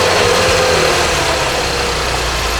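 A 2021 Chevrolet Camaro LT engine runs just after a jump start, a loud steady idle with a low rumble throughout and no voices.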